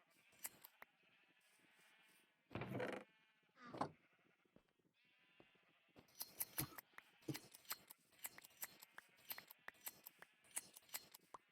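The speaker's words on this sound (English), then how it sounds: "shearing sheep is kind of fun" Sheep in Minecraft are sheared with shears, giving repeated quick snipping clicks mixed with bleating, some loud bursts and a run of rapid cuts near the end.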